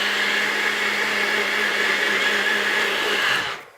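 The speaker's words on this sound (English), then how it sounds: "we're going to come back to the blender and we're going to add a little bit of ice." A countertop blender whirs steadily as it crushes ice into a recipe mix, a loud continuous motor drone that runs for several seconds and then cuts off abruptly near the end.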